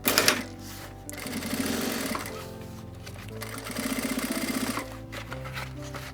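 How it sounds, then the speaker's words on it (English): A sewing machine stitches a mini backpack, with rapid rhythmic bursts of needle clatter and motor whir that speed up, pause and start again close to the listener. "I'm still gonna sew it just so I can see what that's gonna look like."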